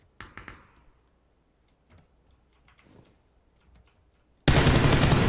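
Gunshots in a multiplayer video game: a few sharp reports at the start, then sparse clicks and small pops, before a loud burst of continuous firing or static breaks in near the end.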